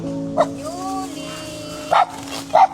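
A few sharp dog barks ring out at intervals, one early and two close together near the end, over faint background sounds.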